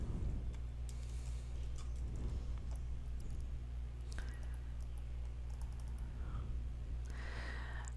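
Fingers type a chart title on a computer keyboard, soft scattered keystrokes at close range over a steady low electrical hum.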